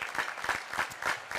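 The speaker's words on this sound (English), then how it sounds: "Please give our graduates a round of applause." An audience at a 2024 high school graduation ceremony applauds the graduates, a short burst of many hands clapping in a quick, pulsing rhythm at moderate loudness.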